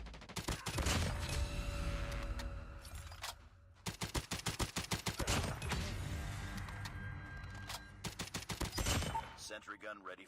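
Rapid bursts of automatic gunfire from Call of Duty Mobile gameplay at a world championship event, loud and near with dense repeated volleys and short pauses, with faint voices underneath.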